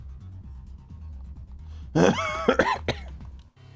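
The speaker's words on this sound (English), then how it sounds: "I'm probably going to spend half the stream coughing." A man coughs indoors, a short cluster of harsh coughs and throat clearing rising over a low, steady background hum, then fading.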